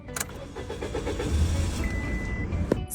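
A car engine cranks and struggles to start during a hard-starting repair check, the starter whirring in a fast rhythmic churn for about two seconds, close and loud, without catching, then a brief clunk.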